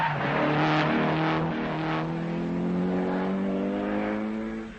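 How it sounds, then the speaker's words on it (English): An Opel rally car at the 1978 Rally of the Danube climbs a mountain pass, its engine loud and close with rising gear-by-gear revs held steadily throughout. "A number 1 on the road, and at the moment number 1 in the rally, are the Austrians Franz Wittman and Helmut Diemel in the Opel"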